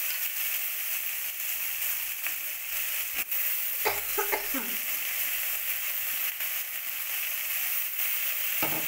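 Squeezed grated potato goes into a pan of frying sesame seeds, producing a steady, moderately loud sizzle with a few brief clattering stirs and scrapes partway through.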